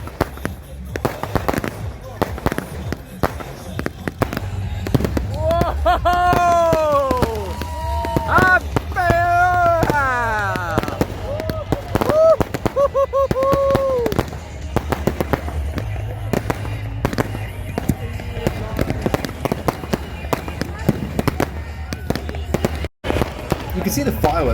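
New Year's Eve fireworks burst along a three-kilometre beach in Goa, with rising whistles, crackling pops and a continuous loud rumble of bangs over a noisy crowd, while excited voices shout nearby throughout.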